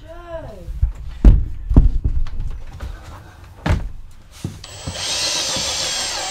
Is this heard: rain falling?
no